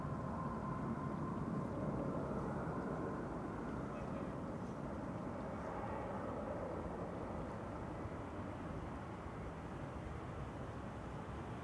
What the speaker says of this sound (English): 787-10 arriving from Cartagena in Colombia